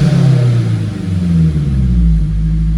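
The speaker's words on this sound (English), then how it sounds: "Sounds like a good engine to me." A turbocharged Mazda car engine runs close by, a loud continuous low rumble with slight shifts in pitch as it idles and revs gently, no voices.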